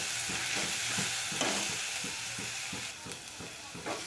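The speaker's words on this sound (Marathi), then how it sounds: "आलं लसूणची पेस्ट अगदी थोडीशी हलकी आपल्याला याला फ्राय करायची आहे" Ginger garlic paste fries lightly in a pan, a constant bright sizzle broken by a regular rhythm of soft stirring scrapes, close and steady without voices.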